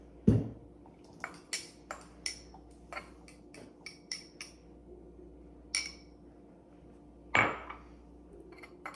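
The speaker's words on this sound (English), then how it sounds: "I'm going to add my pre-diced up tomatoes" Pre-diced tomatoes being added to a bowl, with a series of sharp, ringing clinks and taps of a utensil against the dish, spaced irregularly, plus one or two louder knocks, close and clear in a quiet kitchen.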